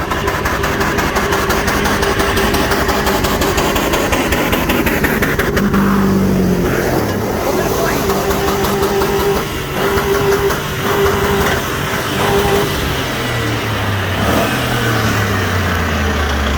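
Chevy Suburban engine roaring and revving hard during a front-wheel-drive burnout, a loud sustained rumble with rising and falling rev sweeps and tire noise, close up and with no talking.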